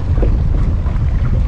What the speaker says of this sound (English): Got a little windy here.